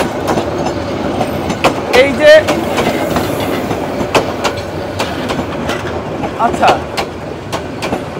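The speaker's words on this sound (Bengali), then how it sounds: "ট্রেনটা একটু দেখাও।" A crowded holiday train in Bangladesh rolls past loudly, with rhythmic clickety-clack, rattling cars and brief wheel squeals, while people talk nearby.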